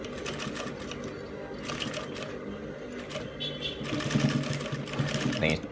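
Sewing machine stitching a fly front zipper onto trousers, running in steady bursts of rapid needle clatter under a speaking voice, loudest toward the end.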